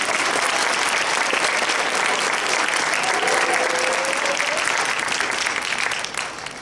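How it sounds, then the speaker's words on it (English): Sustained audience applause at a high school honors and awards ceremony, a dense, steady clapping that fills the room and tapers off slightly at the end. "Another round of applause,"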